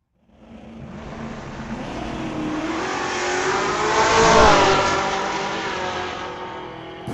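A 1925 Corvette and a Nova launch side by side in a street-legal drag race at Mission Raceway Park, their engines roaring up loud, peaking mid-run as they pass close, then fading into the distance.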